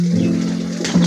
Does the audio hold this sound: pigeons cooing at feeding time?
yes